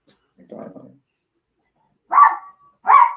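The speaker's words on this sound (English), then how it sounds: "You don't have to bark at him again." A dog barks twice in quick succession, loud and close, after a faint low muffled sound and near silence.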